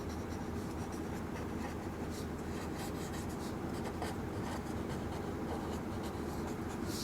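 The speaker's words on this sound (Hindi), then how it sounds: "उसके बाद नंबर ऑफ वुमेन लिखेंगे" Chalk or pen scratching continuously during a class 3 maths lesson, a close, faint rubbing texture with small strokes and no talk over it.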